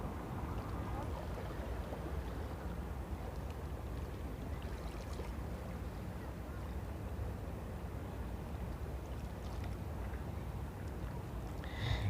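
A boat ride at Ulee Lheue harbour gives a steady, moderately quiet wash of engine drone and water noise that continues evenly throughout, with no voices.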